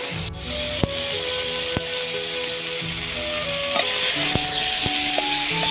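Ginger-garlic paste, cumin paste, spices and tomatoes fry in a hot pan, giving a steady close sizzle with occasional sharp clinks of a spoon against the pan and no talking.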